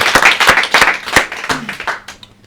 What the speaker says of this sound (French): On applaudit Ricky James.